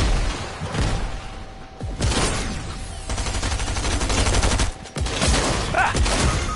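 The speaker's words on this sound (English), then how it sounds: "Grenades." Loud, chaotic gunfire and explosive bursts from grenades in a Fortnite match, with several sharp blasts and rattling shots packed close together over continuous game noise.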